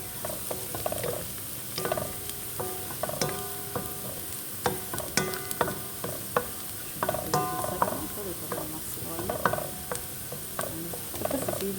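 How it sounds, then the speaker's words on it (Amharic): Onions frying in a pan for an Ethiopian pasta sauce, a soft continuous sizzle broken by frequent clicking taps and scrapes of a spoon stirring against the pan. "ያ ሽንኩርት እየበሰለ ነው።"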